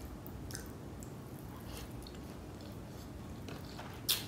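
Close, soft chewing of biryani rice and chicken masala in an Indian food mukbang: steady moist mastication with faint squishy bites, no talking, and one brief sharp click near the end.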